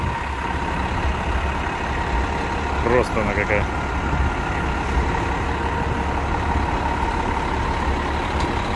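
A New York fire truck's heavy diesel engine idles nearby with a steady low rumble, and people talk over it.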